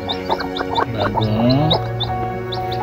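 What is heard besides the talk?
mother hens and chicks clucking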